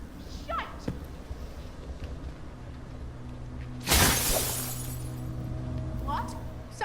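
A single sharp shatter of breaking glass in Dishonored 2 bursts out midway over a low ambient hum, trailing off into quieter debris, with faint game voices before and after.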